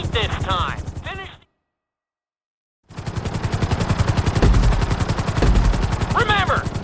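A helicopter in a GTA V flight-school speed lesson gives off a loud, rapid rotor chop that runs steadily, then cuts out to silence for about a second and a half before returning just as strong, with brief game voices over it.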